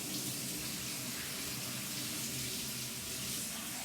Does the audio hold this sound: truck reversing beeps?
no